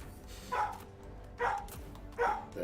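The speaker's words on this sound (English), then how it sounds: "Oh, okay, that's someone's dog." An excited dog barking three times in evenly spaced, sharp bursts over a quiet, low background hum.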